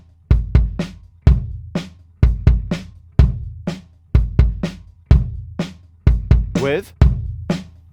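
Uncompressed bass drums in a drum mix thump in a steady repeating pattern of deep, punchy kicks with short decays, close and loud, with a brief fill of faster hits near the end.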